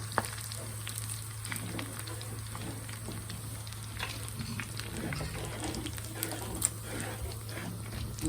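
Chicken sizzling and crackling in hot oil during its second fry, a steady, dense frying hiss with scattered pops and spatters over a constant low hum, close and continuous.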